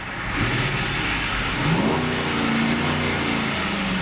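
A 2006 Dodge Durango Limited with a HEMI V8 revs up from a steady idle, the engine note climbing and holding high before easing back, loud and close with no talking.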